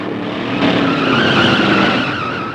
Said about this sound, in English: This is drag racing, the country's fastest growing organized sport.